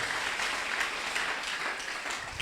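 A church congregation applauds with steady, dense clapping, moderately loud and sustained throughout, with no voices standing out.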